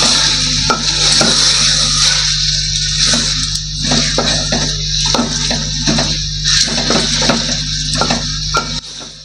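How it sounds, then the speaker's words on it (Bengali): Spiced chicken for biryani stir-fries in a pan, with a steady sizzle and repeated scraping, knocking strokes of a spoon against the metal, close and rhythmic. "মাংসটা ভালো করে কষে নিচ্ছি।"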